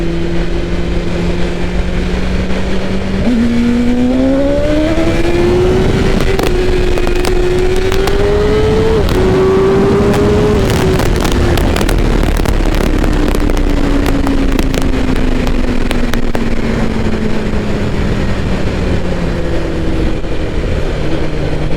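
A BMW sport motorcycle, an M1000R or S1000RR, revs hard throughout. Its engine note climbs through the gears and then winds down in a long, loud, continuous pass.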